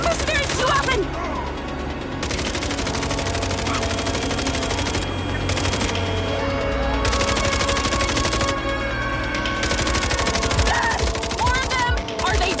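Rapid bursts of machine-gun fire shot at mercenaries in the video game Minds Eye, loud and dense, layered with explosions, music and game effects across the whole stretch.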